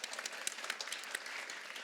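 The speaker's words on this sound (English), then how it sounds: "Round of applause." A school assembly for a grade 4 celebration breaks into a short round of applause, with many hands clapping in a dense, fairly soft patter from a crowd of children.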